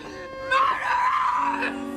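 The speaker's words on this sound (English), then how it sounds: "Jennifer Lawrence shrieks in the climactic scene" A woman shrieking in the climactic scene of the film Mother, a high, strained cry that starts about halfway through, rises sharply, then wavers and holds over a faint tonal background.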